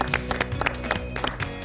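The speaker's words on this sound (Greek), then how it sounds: "Ένα χειροκρότημα για τον τελευταίο φιλοξενούμενο μας για φέτος" Studio audience clapping for Ben, a dog guest on a Greek farm reality show: dense, steady applause of many hands throughout, with individual claps audible in a continuous patter.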